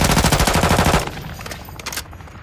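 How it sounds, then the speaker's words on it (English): Automatic gunfire in the DMZ video game, a close rapid burst of evenly spaced shots for about a second followed by fainter scattered shots and echoes. "we're shooting him"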